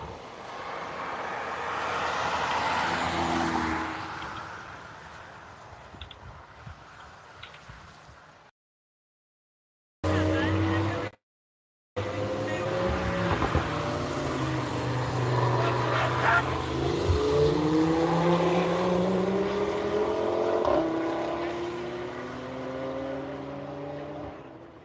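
Engines of cars rushing past on the Nürburgring race circuit, a broad roar with rising and falling pitch sweeps as vehicles pass, loud and continuous apart from two brief cuts to silence.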